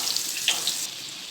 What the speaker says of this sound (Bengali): বেগুনগুলো ভাজবো এখন